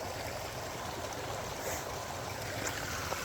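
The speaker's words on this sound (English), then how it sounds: "And the waterfall." A backyard pond waterfall spills into a koi pond, a soft, constant rushing wash of water heard from a short distance, faint and even throughout with no voices.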